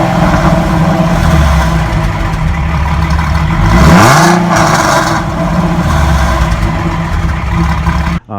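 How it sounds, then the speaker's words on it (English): A deep 4.3L V6 stroker exhaust on a Dodge Charger/Challenger rumbles steadily at close range, swelling briefly in one rev before settling back to a low idle. "At idle and lower RPMs, the V6 really sounds deep."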